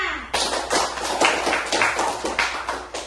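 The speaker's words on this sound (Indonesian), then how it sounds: "beri tepuk tangan kepada temannya" Schoolchildren in a classroom give a round of hand clapping for a classmate, a rhythmic run of quick, sharp claps that stays close and fairly loud throughout.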